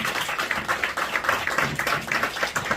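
Dense, steady applause from an audience at a party ceremony where Vietnam War veterans join and endorse the Liberty Unification Party, welcoming the party leader to the podium; many hands clap continuously throughout, loud and close.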